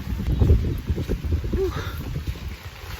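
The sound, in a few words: strong wind on Malapascua Island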